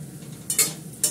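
Potatoes frying in a pan, with a soft sizzle under a couple of short scraping stirs of a spatula, close by and fairly quiet.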